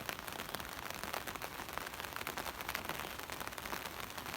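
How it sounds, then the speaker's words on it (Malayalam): Steady rain falls at night on a solo hilltop campsite, a dense, even patter pouring on the tent and surroundings throughout, fairly soft with no voices. "വീണ്ടും ഇവിടെയും മഴ ആരംഭിക്കാൻ തുടങ്ങിയിട്ട്"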